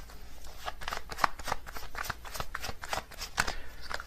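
Tarot cards are shuffled up close to draw a card, a dense run of crisp riffling flicks and slaps that carries on steadily for several seconds.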